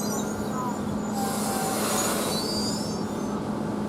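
Southeastern Class 395 train, unit 395011, on the 12:27 service toward Thameslink standing at Rochester station: a steady electric hum and rumble with faint high squeals, heard under a voice.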